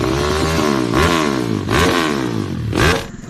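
A modified Yamaha MX King motorcycle engine revs hard, with three rising blips of throttle that climb and fall in pitch, loud and close, with no talking.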